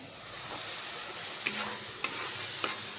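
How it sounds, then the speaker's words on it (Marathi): Garam masala with a pinch of turmeric roasts in a pan, a faint soft sizzle under three brief scraping strokes of a spoon stirring it. "आता हे छान मी भाजून घेते"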